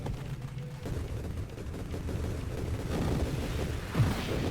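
Explosions in the space shooter game Nova Drift crackle and boom in a steady, chaotic barrage of low thumps and bursts, building slightly louder toward the end, with no one speaking.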